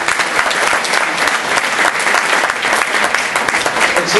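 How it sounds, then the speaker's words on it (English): An audience at a Sikh student society event claps in sustained, dense applause that stays loud and steady throughout, with no speech over it. "So can I please get a round of applause for them?"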